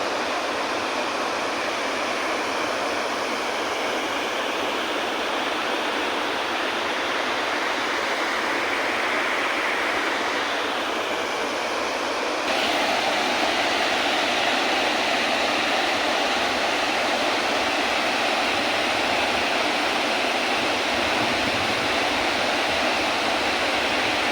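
Water pours steadily over the Bagad river dam near Samadhiyala village, making a dense, continuous roar with no voices. It swells noticeably louder about halfway through and stays full to the end.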